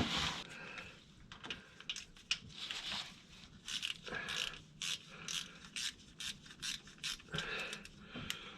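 A hand ratchet with an 8mm socket snugs up a bolt during a Ford 8.8 axle wheel bearing and seal job, giving quick, close, irregular bursts of clicking pawl strokes in a quiet shop.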